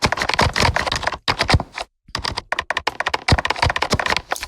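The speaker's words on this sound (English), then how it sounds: "You get a computer keyboard." Computer keyboard typing sound from the King Key instrument app on an iPad, a dense run of rapid clicking keystrokes with two brief pauses, close and clear with no talking.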